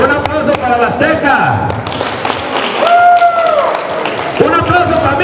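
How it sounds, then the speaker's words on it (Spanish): Crowd clapping at a Mexican expo event, a steady wash of hands under loud voices, shouting and a whistle-like tone throughout. "Un aplauso para la azteca."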